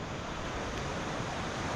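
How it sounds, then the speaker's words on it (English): Broad, steady rush of river water flowing fast toward the lip of Gayle waterfall, a continuous, close, even wash with no pauses or voices. "the water's getting faster and faster from this point on until it goes over the top of the waterfall at the gate there"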